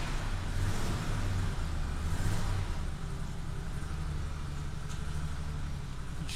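Old car engine misfiring and running on only two cylinders, a rough, uneven low rumble with a lumpy throbbing pulse that drones on continuously and close by, with no one speaking over it.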